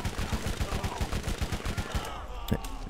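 Rapid pistol shots fired in the Borderlands video game, a fast regular burst of about a dozen sharp reports over two seconds, then a brief pause and one more crack, with faint game ambience.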